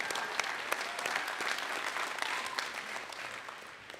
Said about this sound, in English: Yeah, that's worth applause